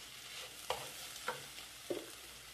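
Grated zucchini, thawed from frozen, sautés with seasoning in a pan, a steady soft sizzle broken by three spaced scrapes of a spoon.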